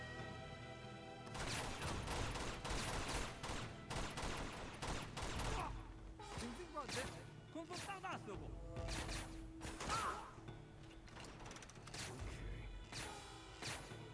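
Gunfire in the video game Uncharted 2, with dense bursts of rapid shots and crashing impacts that run almost without pause, loud and layered under game sounds, with speech now and then.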